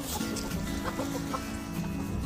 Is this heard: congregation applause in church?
no